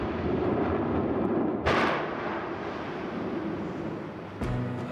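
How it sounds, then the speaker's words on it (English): A volcanic eruption explodes suddenly, sending plumes of ash several hundred meters into the sky: a steady roaring rumble with a sharp blast partway through and another loud crack near the end. "there was a sudden explosion with plumes of ash rising several hundred meters into the sky"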